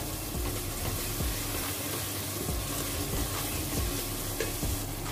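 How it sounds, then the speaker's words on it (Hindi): Masala fries in a pan for a dalna of chana dal, a steady dense sizzle with soft repeated stirring scrapes and taps underneath, close and continuous throughout, no talking. "तो इसको भी हम तकरीबन 2 मिनट भूनने के बाद इसमें हम दाल को ऐड कर देंगे"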